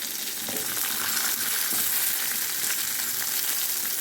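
Tomato and green chili sauté in a pan of hot oil for a steady, loud, close sizzle that hisses on without a break and with no voices.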